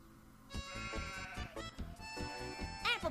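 Cartoon sheep bleat in a run of quavering, wobbly baas, several short calls in quick succession and fairly close, ending in a higher warbling cry.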